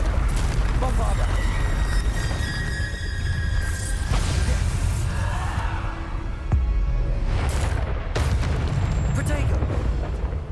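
Bombarda spell blasts in Hogwarts Legacy, loud booming explosions layered over dense combat noise, with several sharp bursts standing out across the stretch under ongoing battle sound.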